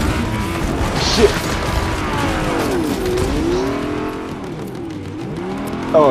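Video game boss car engine revving and whining close by, pitch sweeping up and down through repeated gear changes, with tire screeches and a brief crash-like thump.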